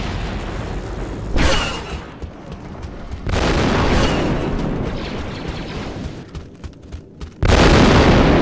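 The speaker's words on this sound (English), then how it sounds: "Grenade thrown!" Grenade blasts in the Star Wars Republic Commando shooter: loud booming bursts cut in at intervals between crackling combat noise and scattered gunfire, one big blast landing near the end.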